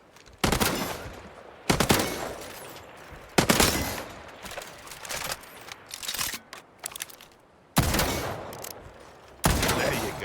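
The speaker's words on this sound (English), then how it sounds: "We can start by firing your weapon. Go ahead. Take some shots." Weapon fire in the shooter Highguard cracks out in sharp, loud bursts, single shots and rapid strings separated by short pauses, close and dry with no voices.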